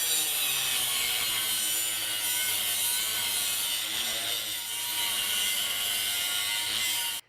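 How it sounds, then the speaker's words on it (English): An angle grinder cuts a piece off a steel wedge to make a workable chunk for a blacksmith's forge, giving a loud, continuous, harsh whine that holds steady for several seconds before stopping abruptly. "I'm going to cut a piece off with my angle grinder"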